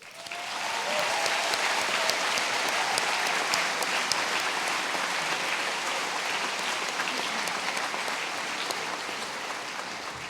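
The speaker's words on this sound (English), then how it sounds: "can we get a round of applause for all the parents and the teachers in the audience right now?" Sustained applause from a high school graduation audience honoring parents and teachers, a dense steady roar of many hands clapping at close range that holds loud for the full stretch.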